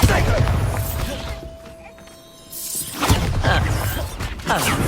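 Hogwarts Legacy Bombarda explosion spell goes off in a loud burst, followed by a tail of mechanical clatter and whooshing. A quieter lull comes before another round of spell impacts and thuds.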